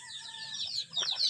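Serama bantam chickens clucking in a pen, giving a few faint, short clucks over quiet background with no talk.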